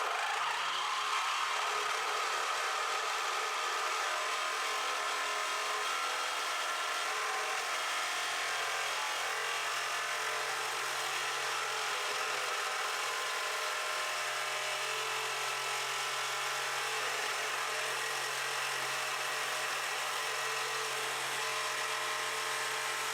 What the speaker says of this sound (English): We're going to do the same destruction test that we performed on the aftermarket bumper offering as we did before